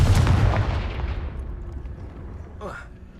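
A Confringo fire spell bursts in a video game, a loud booming blast at the start that fades into a rumbling tail, with a brief swooshing effect near the end.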